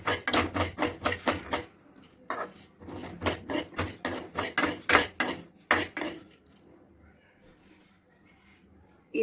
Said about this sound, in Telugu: ఇప్పుడు దీన్ని కొంచెం రోస్ట్ చేసుకోవాలి.